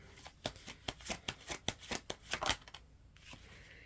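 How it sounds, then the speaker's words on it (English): A deck of angel cards is shuffled by hand, a quick run of crisp riffling flicks in a steady rhythm, close and fairly soft, ending with a few lighter taps. "They're telling me to pull you one of these angel cards, though."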